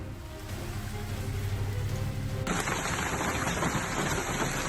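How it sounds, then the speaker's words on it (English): Large hailstones pour down densely across a yard in strong wind, a steady, loud clatter of hard impacts that thickens abruptly halfway through and continues without pause. "large hailstones fell densely covering the entire yard in just moments"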